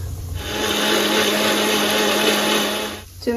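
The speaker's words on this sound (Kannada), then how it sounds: "ಇವಾಗ ನೀರು ಹಾಕ್ಕೊಂಡು ನುಣ್ಣಗೆ ರುಬ್ಕೊಳ್ಳೋಣ" A mixer grinder whirs steadily and loudly for about three seconds, grinding a masala paste with water at a constant high motor drone before cutting off abruptly.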